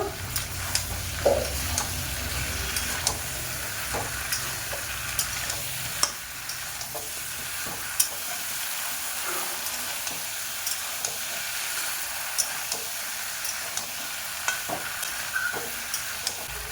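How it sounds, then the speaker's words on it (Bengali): Shrimp with green banana, taro and brinjal sautéing in a pan, a continuous close sizzle broken by regular spatula strokes and scrapes, with no talking. "ঢাকনা খুলে কিছুক্ষণ কষে নেব।"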